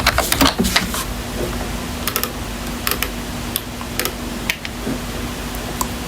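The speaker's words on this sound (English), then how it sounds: "So I'm going to type ifconfig." Quick bursts of keystrokes on a computer keyboard as a command is entered, close and clear, with short pauses between clusters of taps.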